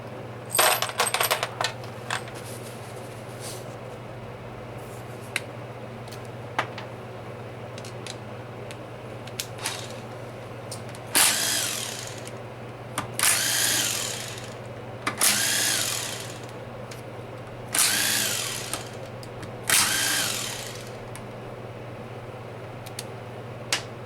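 Power drill spinning out 10mm bolts from an L60E transmission during a teardown, several separate bursts of high whirring, each a second or two long, with clinks of metal between them over a constant low hum.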